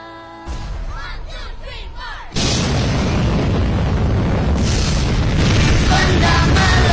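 A sudden loud boom erupts after a quieter stretch, followed by a sustained roaring blast that keeps rumbling heavily.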